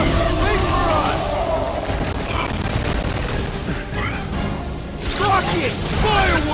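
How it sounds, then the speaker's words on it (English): Fireworks and rocket blasts burst in a Guardians of the Galaxy video game battle, a dense, continuous stream of booms and crackles layered under game voices and music for several seconds. "Rockets! Fireworks! There are more arriving!"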